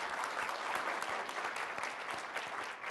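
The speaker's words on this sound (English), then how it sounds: "if we can give Dr. Jones a round of applause" A round of applause from an audience at the National Press Club, many hands clapping in a dense, steady patter, moderately faint and unbroken for the whole stretch.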